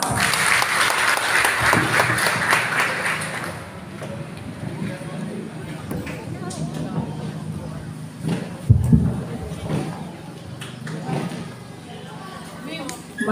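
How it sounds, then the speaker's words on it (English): A crowd claps loudly for a few seconds at a high school graduation ceremony, then the applause fades and a voice begins speaking over a quieter covered court. "Let's give her a warm applause."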